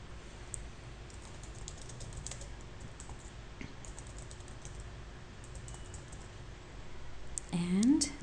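Quiet, rapid clicks of a computer keyboard as code is typed for a Rails app, bursts of keystrokes with short pauses, close but soft, ending with a brief higher-pitched electronic tone.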